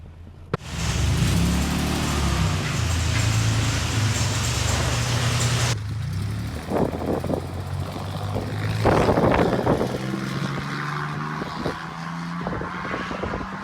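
A DeLorean drives off and accelerates gently, its engine droning steadily and fairly close, with a sharp change in tone partway through and some rattles and bumps over the engine noise.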